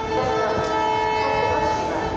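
A train at Lucknow Charbagh railway station gives a sustained horn under a steady rail rumble, with a voice faintly heard in the background.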